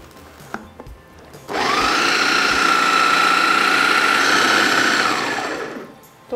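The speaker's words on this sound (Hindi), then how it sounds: "घर का ये ब्लेंडर है, घर में थोड़ा स्लो होता है" A home blender grinds about 200 grams of warm peanuts into peanut butter, starting abruptly and running as a loud, steady whir with a sustained motor whine for several seconds before spinning down, with no talk over it.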